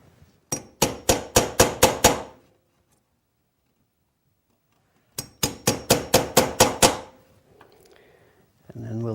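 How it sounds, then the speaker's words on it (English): A Lie Nielsen drawer lock chisel is struck repeatedly to chop out waste from a joint, two bursts of about seven quick, sharp, evenly spaced taps, near and loud with a pause between, followed by faint rustling. "we'll take out the waste again with the small end of the chisel"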